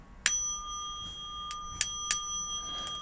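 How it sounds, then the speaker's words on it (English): A small bell rung a few times for attention, sharp bright strikes with ringing tones that hang on, spaced irregularly against a quiet room. "So we'll just give a little attention getting a bell here."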